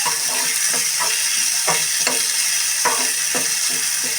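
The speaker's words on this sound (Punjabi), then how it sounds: "ਸਿਰਫ 2-3 ਮਿੰਟ ਇਹਨਾਂ ਨੂੰ ਆਪਾਂ ਹਲਕਾ ਜਿਹਾ ਭੁੰਨ ਲਵਾਂਗੇ ਜੀ" Vegetable stuffing of potato and grated carrot with dried fenugreek is lightly roasted in a pan, a loud constant sizzle broken by regular scraping stirs of a spatula, no voices.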